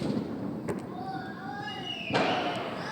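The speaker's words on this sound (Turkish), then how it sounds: "Gördüğünüz gibi havai fişek atıyorlar." Fireworks being set off outdoors on New Year's Eve, with a few sharp distant bangs and whistling rising trails, one louder burst near the end, under low background voices.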